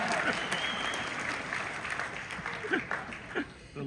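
An audience at a Queen Mary Dark Harbor announcement event applauds in a sustained round of clapping, moderately distant, with a few cheers and scattered chuckles mixed in.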